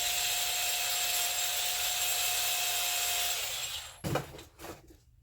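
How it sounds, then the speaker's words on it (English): A small cordless sander scuffing a jewelry piece hums steadily at close range for several seconds, then cuts off, followed by a few brief scraping rubs. "I just took my little cordless sander and kind of scratched it a little bit"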